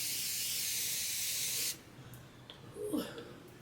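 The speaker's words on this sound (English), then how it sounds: "I'm gonna set my face with the Morphe setting spray." Morphe setting spray misted onto a face: a steady close hiss of fine spray lasting about a second and a half, then cutting off to quiet with faint handling noises.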